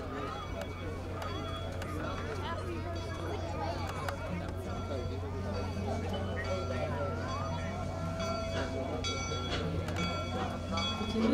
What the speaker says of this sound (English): If you listen as the 119 backs up, you can actually hear the huffing and chuffing sound.